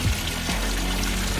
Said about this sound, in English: I'm just sat next to this little waterfall pond area that they've got in the garden